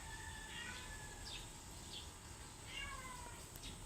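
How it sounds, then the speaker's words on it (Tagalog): Several faint cat meows rise over a steady low outdoor hum, spaced irregularly across a few seconds, with no talking. "may pusa"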